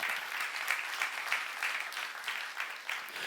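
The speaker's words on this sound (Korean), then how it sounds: "박수하세요." A church youth-service congregation claps together during a sermon, a dense, steady wash of many hands applauding at close range with no talking over it.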